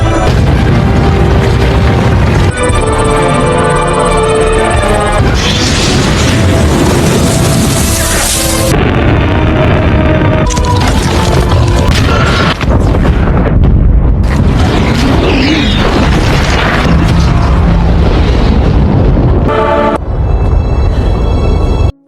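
An alien mothership explodes in a film scene, a sustained series of heavy booms and roaring blasts layered with dramatic music, loud and dense, with brief cuts and shifts in the mix.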